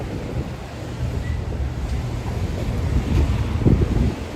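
Strong wind gusts buffet the microphone on a New York City street, a steady broadband roar that swells louder toward the end, with no talking.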